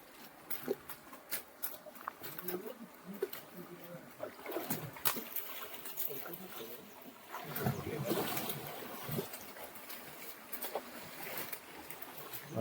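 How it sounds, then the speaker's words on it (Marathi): Boys throw water into a creek while fishing with friends, making irregular splashes and trickles at close range, with voices talking over much of it. "पोरं टाकतात पाणी यात"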